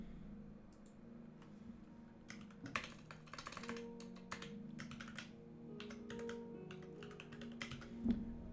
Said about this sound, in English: what I'm typing just by the sound of my keyboard